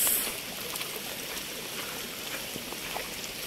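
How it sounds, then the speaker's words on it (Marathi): Rainwater rushes along a roadside channel toward a river during heavy village rain, a steady, even wash of flowing water that holds at moderate level throughout with no one talking. "रस्त्याच्या बाजूने हे पाणी नदीला चाललंय."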